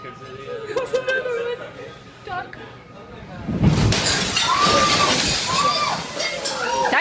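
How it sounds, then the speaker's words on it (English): Ocean waves crash into a restaurant window and the glass shatters in a sudden loud burst of breaking glass and rushing, sloshing water, followed by people screaming over the roar; talking is heard before the impact. "The water crashes against the window and glass shatters as the spectators scream."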